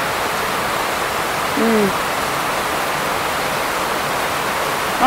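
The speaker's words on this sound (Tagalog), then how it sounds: "Lakas talaga rin ng ulan." Heavy rain pours down during stormy weather on a cattle farm, a constant loud hiss that holds evenly throughout, with a brief faint tonal call about a third of the way in.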